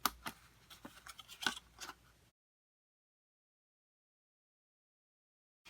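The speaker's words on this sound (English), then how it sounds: "I just took a blade or my detail scissors and I just cut between." Detail scissors snip paper for a top-opening gift box, with a quick run of crisp cuts for about two seconds, then silence.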